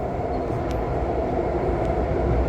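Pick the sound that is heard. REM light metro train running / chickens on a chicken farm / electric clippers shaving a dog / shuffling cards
REM light metro train running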